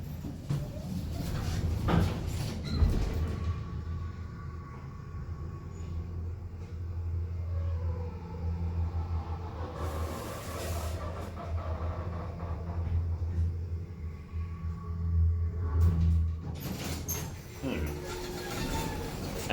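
An Eastern hydraulic elevator, slightly low on oil, runs during a ride with a low steady rumble and hum, punctuated by clunks and door thuds near the start and end, with occasional voices.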